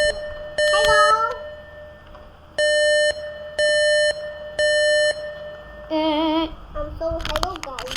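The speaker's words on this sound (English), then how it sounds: "the EAS alert test is now open" Emergency Alert System alert tones play in the Roblox Brookhaven roleplay game, a series of short, loud electronic beeps in a steady sequence with brief gaps. A warbling tone and other game sounds follow near the end.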